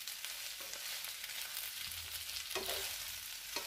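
Potatoes and bacon sizzle in a pan for Finnish pyttipannu, a soft continuous frying hiss broken by a few scraping stirs toward the end.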